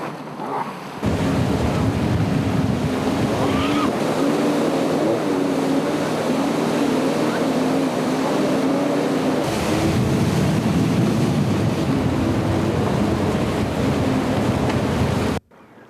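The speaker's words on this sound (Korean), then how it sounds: "제트스키를 타고 물속에서 나타난다" A jet ski runs across the water with a steady droning engine and a wash of spray, waves and wind noise, close and continuous throughout.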